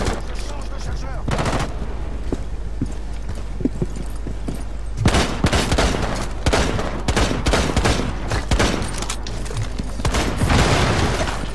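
Grenade explosion and gunfire in the Rainbow Six Siege video game, with a loud boom followed by dense bursts of rapid automatic fire, steady and heavy throughout, with voices talking over it.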